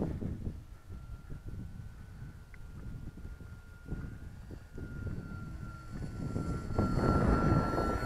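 A Da Vinci Flyer Mk. 2 model biplane flies after its launch, its steady electric-motor drone carrying faintly through low wind rumble and swelling toward the end.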